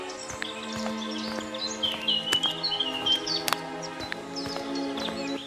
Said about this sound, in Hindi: वो चारों तरफ सन्नाटा था, केवल पक्षियों की आवाजें आ रही थी।